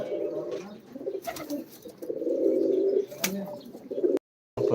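Several pigeons coo close by, a rolling, almost continuous burble with a few sharp taps, ending in a sudden cut to silence.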